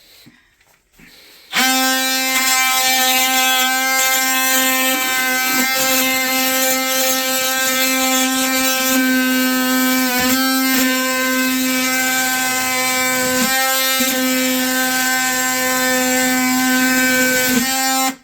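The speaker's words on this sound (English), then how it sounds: "she's sanding down where the tape's going to go, but using the saw" A high-pitched oscillating saw sanding drywall buzzes steadily and loudly, starting abruptly after a short quiet moment, its whine dipping briefly as pressure changes.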